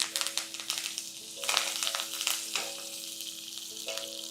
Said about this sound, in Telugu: ఆవాలు చిటపటలాడాక ఒక 1/2 టీ స్పూను మినపప్పు, ఒక చిటికెడు ఇంగువ ఇందులో వేసి తర్వాత ఫ్రెష్ కరివేపాకు వేసేయండి